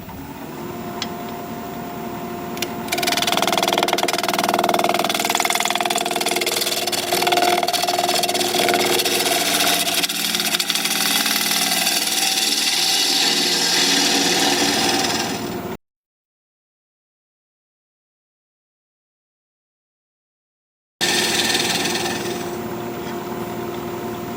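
Wood lathe spinning a mulberry live edge bowl, a steady loud whirring drone with tool cutting noise running for about fifteen seconds, then a sudden silent gap before the hum resumes more quietly.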